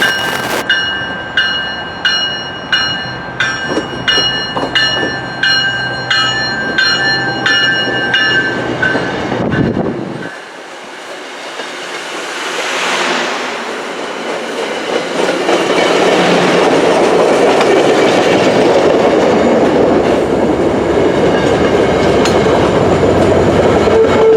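An MBTA Worcester Line train rolls past nearby with a steady clickety-clack of wheels over rail joints, dips briefly, then swells into a loud, continuous rushing roar.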